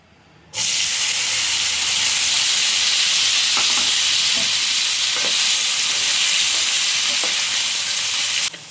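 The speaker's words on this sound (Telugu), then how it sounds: "ఇప్పుడు మనం పన్నీర్ పీసెస్ని ఫ్రై చేసుకుందాం." Paneer pieces dropped into hot oil in a pan for a dhaba-style paneer tomato curry, a loud sudden sizzle that holds as a steady, close hiss with faint clinks, then cuts off at the end.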